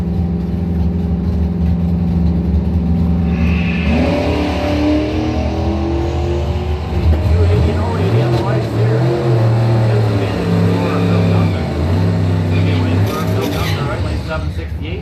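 Drag racing launch of a 2006 Silverado truck against an 86 Jeep at a bracket points event, engines rising into a loud, sustained revving roar after a steadier idle, with an announcer talking over it.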